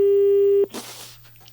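A steady electronic phone tone drones loudly after a call is hung up, cutting off abruptly partway through, followed by a brief rustle and quiet low hum.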